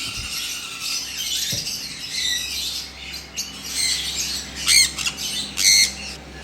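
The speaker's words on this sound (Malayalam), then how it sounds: "സൺകൊണിയൂറിൻ്റെ ഒരു പെയറാണ് ഇത്" A pair of sun conure parrots squawk repeatedly at close range, harsh shrill calls in bursts over a steady background hum, loudest toward the end.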